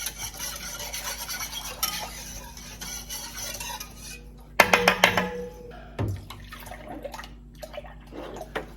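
Whole milk being stirred into broth for chicken pot pie, a wet sloshing and scraping of a spoon in a pot, steady at first with a louder burst of splashing clatter midway, close by.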